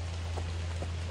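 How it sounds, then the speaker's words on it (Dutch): Steady light rain patters across the whole moment in Pai, Thailand, a soft even hiss with a low constant hum underneath and no voices. "Het regent een beetje."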